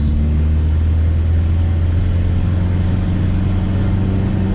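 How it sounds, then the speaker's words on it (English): A Mazda RX-7 with a dual-clutch gearbox holds on launch control in wintry conditions with both wheels spinning, giving a loud, steady droning engine hum that stays at one pitch throughout. "launch control's working and it's spinning both wheels"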